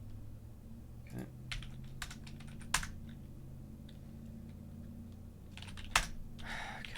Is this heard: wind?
no